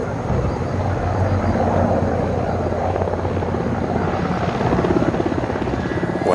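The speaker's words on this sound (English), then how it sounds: "And then I see a tiny dot of a helicopter." A helicopter's rotors thrum in a steady, unbroken drone that holds loud and even throughout, with no other sounds standing out.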